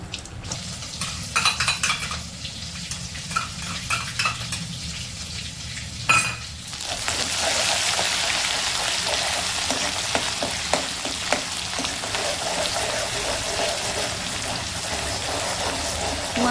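Masala hits hot oil in a pan while a rustic Marathi chunvada vegetable dish is cooked, bursting into a loud, steady crackling sizzle that follows quieter stirring and clatter close by.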